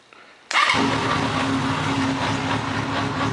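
A Honda CB750 motorcycle engine, warmed up and freshly carburetor-synced, starts after a brief cranking whine and settles into a loud, steady close-up idle.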